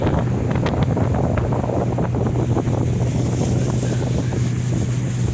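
A 2014 Sun Tracker 22FB pontoon boat with a three-blade prop runs its outboard motor on a lake, a steady low drone heavily buried under loud wind buffeting across the microphone, with no voices.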